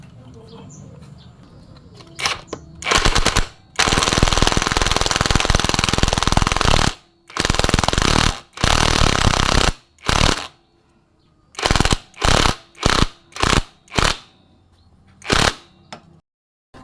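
A power tool drives a 10 mm bolt on a Honda Beat FI scooter in loud, close bursts: one long whirring run, several medium runs, then a string of short rapid blips separated by quiet gaps.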